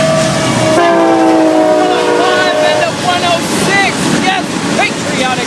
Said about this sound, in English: Look at both of these locomotives.